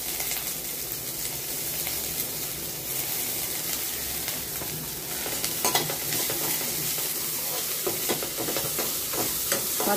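Peanuts, peas, ginger and green chili fry in a pan as a white corn upma base, with a steady close sizzle and repeated scraping stirs throughout, no voices.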